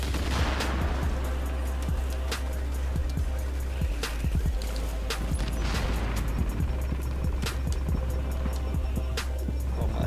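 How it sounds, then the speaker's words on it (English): Rapid bursts of automatic gunfire crackle through a firefight in The Division's Dark Zone, dense and continuous over a steady low rumble, with shots overlapping at varying distances throughout. "They're shooting me."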